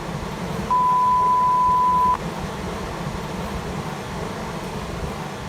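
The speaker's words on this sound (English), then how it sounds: "whoever edited this put in those beeping sounds like when you swear" A single steady censor beep tone lasting over a second, sounding over the low rushing background of a river.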